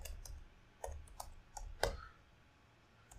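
Scattered keystrokes on a computer keyboard come in a few soft, separate clicks, one slightly sharper tap among them, while someone writes a Java program; the room is otherwise quiet.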